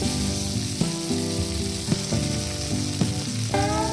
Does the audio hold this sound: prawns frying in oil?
yes